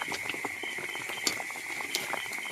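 A banana flower chop frying in oil makes a continuous bubbling sizzle with small crackles and pops scattered through it, heard close up.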